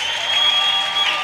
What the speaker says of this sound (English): let's applaud our education and development students